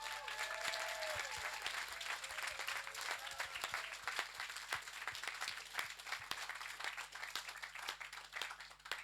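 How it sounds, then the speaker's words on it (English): An audience applauds the organisers of the Sounds Beautiful Festival, steady dense clapping from a moderately distant crowd sustained throughout, with a faint tonal whine and hum in the room. "can we give the organisers of the Sounds Beautiful Festival a really big round of applause"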